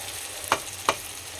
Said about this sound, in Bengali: এটা তো শুধু ভাজা তেলের ওপরে বেগুন দিয়ে পেঁয়াজ